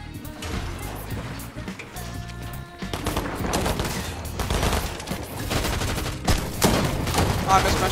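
Gunfire in Fortnite, dense overlapping bursts and rapid shots that grow louder midway and keep going, mixed with game effects and brief voice-chat talk underneath.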